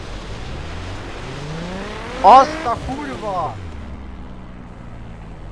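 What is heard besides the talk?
car engine revving in a tunnel in video game The Crew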